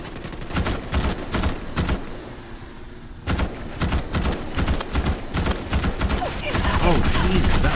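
Repeated sharp gunshots crack out in quick irregular volleys with a short pause midway, loud and close, during alien-bug combat in Starship Troopers: Extermination.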